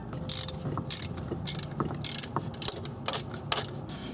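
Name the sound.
bolts being removed from a vehicle's belt auto tensioner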